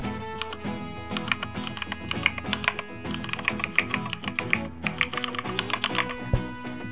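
A laptop keyboard with a mechanical-keyboard sound effect is typed on in a fast, continuous stream of crisp clicky keystrokes, close and alone, with a brief pause midway.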